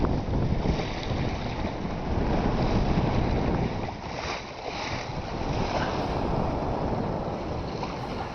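A sailboat running in a 15-knot trade wind under a Yankee headsail and double-reefed mainsail, making about 5 knots over 1-meter seas; steady rushing water and wind noise against the microphone continue throughout with no talking.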